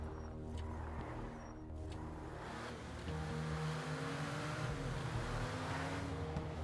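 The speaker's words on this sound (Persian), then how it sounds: "چه ماشینی گاز میدی همه جا میمونه" A car accelerating hard in GTA Online, the Chop Shop update, its engine roar building and holding loud and steady, with a deeper, stronger surge about halfway through.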